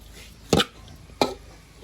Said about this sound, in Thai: จริงต้องหั่นพริก